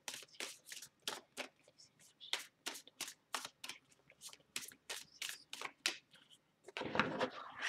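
Oracle cards being shuffled by hand before three are drawn, a quick series of crisp riffling bursts at close range with no talking, ending in a louder, denser rush of card noise.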